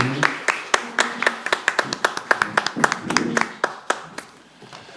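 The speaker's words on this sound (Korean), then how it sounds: "오늘 토론에 함께 해주실 모든 토론자분들께 일괄적으로 큰 박수" Applause for the participants of a panel discussion at a policy forum: a brief round of scattered, uneven hand claps from a modest audience, loud at first, then thinning out and fading.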